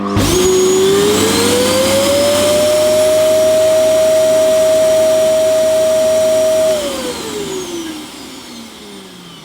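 Hoover Enigma vacuum cleaner running with its hose blocked, a loud steady motor whine that rises in pitch as the airflow chokes, holds high for several seconds, then drops as the hose is released, with no talking.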